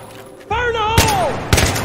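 A grenade goes off in the Battlefield 3 video game: a voice shouts over steady background noise, then a sharp, loud blast lands, followed half a second later by a second heavy burst.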